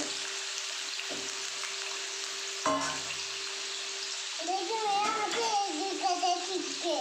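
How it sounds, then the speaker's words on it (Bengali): Potatoes frying in a pan with salt and turmeric for a Bengali mutton curry, giving a steady close sizzle and hiss throughout, with a voice briefly chattering over it toward the end. "আলুগুলোকে আমি ভালো করে ভেজে নেবো নুন হলুদ দিয়ে ভাজবো"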